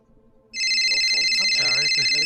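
A phone rings with a steady electronic tone that starts abruptly and continues loudly, as someone calls a woman's number; a voice speaks under the ringing.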